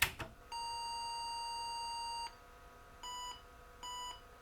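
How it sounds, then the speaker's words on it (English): An IBM PS/2 Model 70 computer with a faulty primary display adapter sounds its startup beep code: one long electronic tone followed by two short beeps, clean and steady in a quiet room. "One long beep and two short beeps indicates that the primary display adapter is bad."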